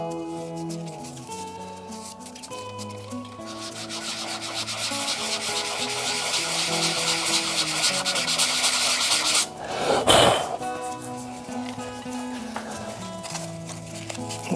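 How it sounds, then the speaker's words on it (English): Continuous abrasive rubbing of sandpaper on a stabilised amboyna burl spinning on a wood lathe, close and steady, with a tonal hum underneath and a brief louder bump near the end. "I always like to mix the sanding up a bit"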